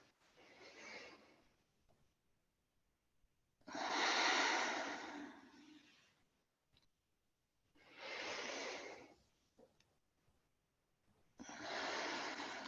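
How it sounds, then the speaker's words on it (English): Deep breathing during a yoga session, four long slow breaths close to the microphone, each a broad airy rush separated by near silence. "getting some deep breaths in"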